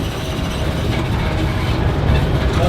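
A miniature zoo train, the Herringer Family Express at the Dakota Zoo, rumbles along its track with a steady, close, broadband rolling noise and low clatter throughout, with no talk.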